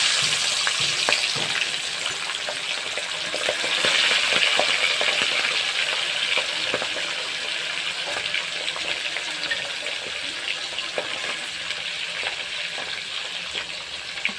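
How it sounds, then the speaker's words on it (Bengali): Tengra fish sizzles and spatters in hot oil, a steady crackling hiss that holds for the whole stretch with no talking. "মাছটাকে ভেজে নিচ্ছি"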